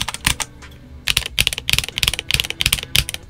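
Rapid typing on a Redragon K631 Pro SE 65% keyboard fitted with red switches, a close, crisp clatter of irregular keystrokes bunched in quick bursts over a few seconds, with no voices.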